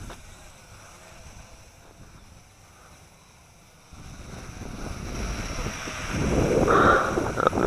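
Wind buffets the microphone outdoors during a test flight of a Nihui Toys U807 toy drone, a steady rushing roar that swells louder and rougher in the second half.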